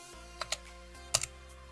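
A handful of soft computer keyboard keystrokes in two small pairs, faint and close, with quiet gaps and a low hum between them.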